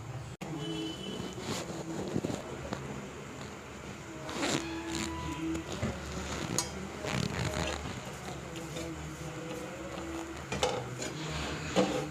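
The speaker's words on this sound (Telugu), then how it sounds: "ఆయిల్ వేసుకొని ఆ వైపు ఈ వైపు మంచిగా ఫ్రై చేసుకోవాలండి." Broccoli roti fries in oil on a pan with a soft, steady sizzle, broken by scattered clinks and scrapes of a utensil against the pan, recorded close and fairly quietly.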